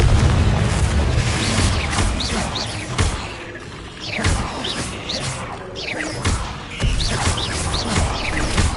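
Repeated Confringo fire blast spells in the Hogwarts Legacy video game crash and boom in heavy bursts with whooshing impacts, loud and close, separated by brief lulls, with no talking.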